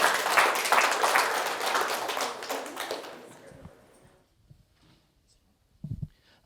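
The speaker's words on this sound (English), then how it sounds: "if we could have one more round of applause for Phil and for our representatives from work" Dense audience applause at the close of a speaker-series talk on birds and wildlife conservation fades out over a few seconds into near silence, followed by a brief dull thump.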